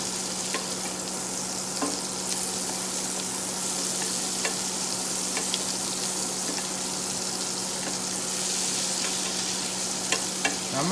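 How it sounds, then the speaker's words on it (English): Two tablespoons of butter melting in a hot pan give a steady, close sizzle and crackle with a constant low hum beneath, continuing evenly with no talking. "2 tablespoons of butter. That melts."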